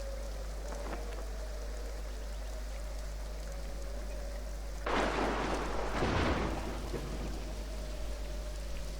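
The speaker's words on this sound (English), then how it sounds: "Rain." Steady rain falls in a video game, a constant hiss with a sudden louder burst like a thunder crash midway before settling back to even downpour.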